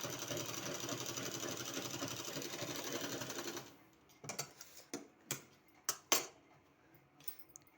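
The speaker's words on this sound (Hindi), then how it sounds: "अब इस तरह से फोल्ड करने के बाद यहाँ हमको एक और सिलाई लगा देना है।" An electric sewing machine runs in a steady, fast whir for nearly four seconds while stitching a sleeve, then stops, leaving a few sharp clicks and taps of handling the fabric and machine.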